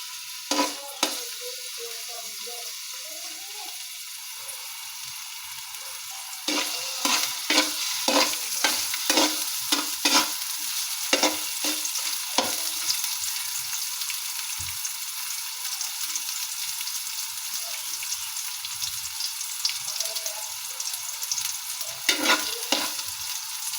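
Garlic fries in a pan, a continuous crackling sizzle broken by repeated scraping stirs of a spatula, close and fairly loud, with no voices.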